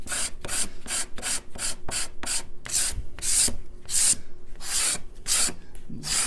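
A card scraper drawn repeatedly across flat maple on a bench, giving a steady series of close, bright rasping strokes, about a dozen in quick rhythm with no talking.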